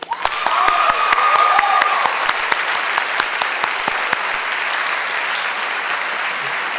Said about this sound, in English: please join me in giving a round of applause to our teachers